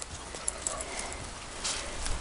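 Horses and a shaggy pony arrive on a visit, their hooves clip-clopping faintly in a loose irregular rhythm at a distance, with no talk.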